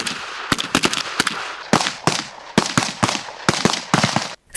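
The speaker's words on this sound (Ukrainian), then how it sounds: "З позиції стоячи стріляє військовослужбовець Станіслав Кравець." Rifle shots ring out during soldiers' shooting practice from a standing position, a rapid irregular series of sharp loud cracks in close succession, with no talk.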